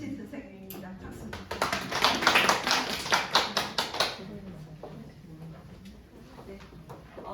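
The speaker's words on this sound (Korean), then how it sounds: "박수." Brief, quick applause in a classroom, a burst of claps lasting a few seconds that fades out, with voices speaking before and after.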